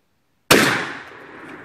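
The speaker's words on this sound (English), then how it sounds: "Did you shoot all those cans down?" A single shotgun blast fired at cans outdoors, one loud sudden crack with a long decaying boom after brief silence.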